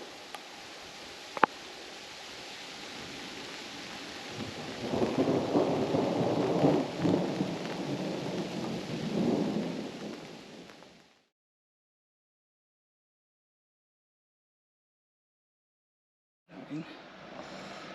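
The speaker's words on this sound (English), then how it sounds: "Oh, rain's picking up now." Steady rain hisses while low thunder rolls and swells in the middle at a campsite in northern Arizona, then the sound cuts to silence before rain briefly returns.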